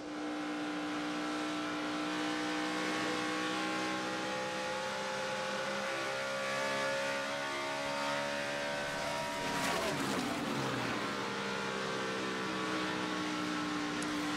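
NASCAR stock cars racing at the Samsung Mobile 500 hold a steady, loud engine drone with sustained harmonic tones, and a sharper burst of roaring as a car passes close near the middle, with no voices over it.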